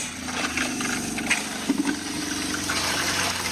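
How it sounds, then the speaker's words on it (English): Water runs steadily from a faucet in a van's plumbing system with a gushing hiss and a low mechanical hum underneath, with a few faint knocks along the way. "Faucet works."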